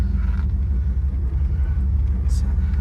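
A manual-transmission car pulls away slowly in first gear as the clutch is eased out, producing a steady, loud low engine rumble from inside the cabin, with faint speech over it.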